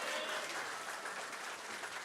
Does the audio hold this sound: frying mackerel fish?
no